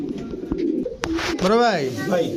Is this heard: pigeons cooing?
yes